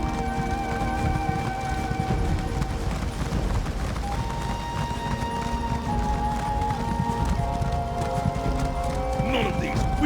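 Horse riding in the video game Elder Scrolls Online: steady rhythmic hoof clip-clops under game music tones, continuing throughout with a brief whinny-like cry near the end.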